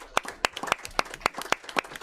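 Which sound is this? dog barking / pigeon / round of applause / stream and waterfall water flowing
round of applause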